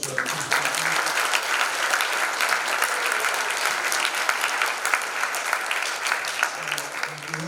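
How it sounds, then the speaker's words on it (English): Audience at a university business forum on the Asia-Pacific economic outlook gives a full round of applause, dense and continuous throughout, with faint voices briefly audible at the start and end. "Ladies and gentlemen, how about a round of applause for our"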